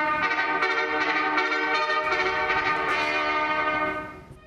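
A pioneer bugle plays a signal call, a loud, bright brassy tone held with short articulated note changes, sounding alone and close, then fading out at the end.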